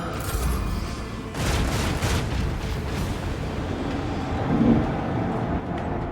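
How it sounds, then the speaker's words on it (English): Heavy booming macro cannon blasts from the video game Warhammer 40k: Rogue Trader thunder over a dense, rumbling battle din, with a loud burst near the start and more impacts rolling through. "Show them the fury of our macro cannons."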